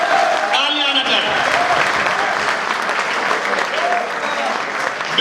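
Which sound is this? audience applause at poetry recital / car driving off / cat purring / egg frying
audience applause at poetry recital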